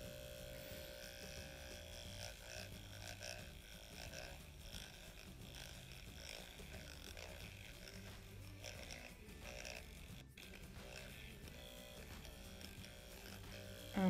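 A vibrating makeup applicator buzzes steadily with a continuous electric hum throughout, like a small shaver motor, fairly constant in level with a brief louder bump at the very end.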